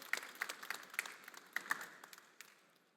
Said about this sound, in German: Erstmal einen Applaus.